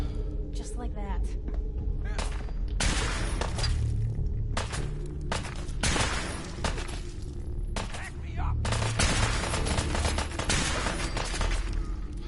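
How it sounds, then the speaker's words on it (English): Radium rifle gunfire in the video game Fallout 4, heard as repeated loud bursts of rapid shots with breaking, shattering crashes between them, mixed with game sounds and spoken voices. "Let's switch to my radium rifle."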